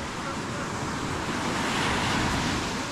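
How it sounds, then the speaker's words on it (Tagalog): Sea waves at Aninuan Beach in Puerto Galera, a quiet, uncrowded beach: a continuous broad wash of surf with some wind rumble, fairly loud and steady, with no talking. "Ayan, ito ang dagat dito sa Aninuan Beach."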